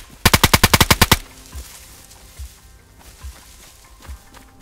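A rapid burst of about ten loud automatic gunshots in the video game DayZ, close and sharp, followed by slow, soft footsteps.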